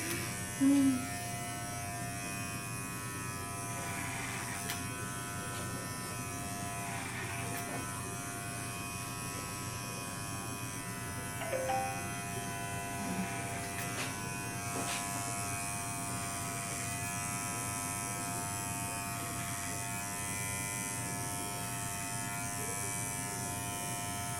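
Electric hair clippers run steadily while tapering a fade in a haircut, a constant buzzing hum for the whole stretch with a couple of brief louder bumps near the start and middle; no talking over it.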